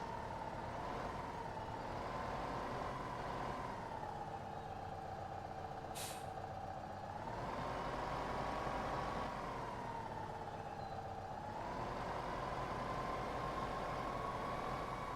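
A tractor engine in the farming game Farming Simulator 15 drones steadily throughout, its pitch rising and falling gently as the revs change, with one short hiss partway through.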